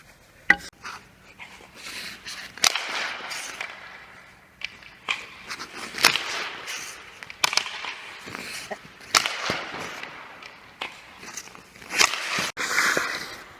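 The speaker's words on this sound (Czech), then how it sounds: "Teďka bude střelba z první." On an ice rink, a hockey player takes repeated one-timer shots, the stick cracking against the puck in sharp irregular hits, several seconds apart, with skate scrapes and arena echo between them.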